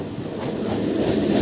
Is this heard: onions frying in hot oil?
no